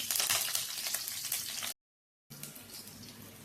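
Curry leaves and green chillies hit hot oil in a pan for a Kannada-style brinjal curry, giving a loud, steady crackling sizzle that cuts out briefly, then resumes more softly.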